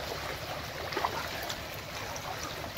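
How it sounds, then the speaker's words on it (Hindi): River water flowing steadily into the Kosi river, a continuous broadband rush and gurgle heard up close with no voices. "पानी आ रहा है और इधर कोसी नदी में जा रहा है"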